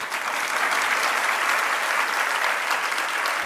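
A crowd at a Jain religious gathering claps steadily, a dense, even wash of applause that holds at the same loudness for the whole stretch with no voices over it.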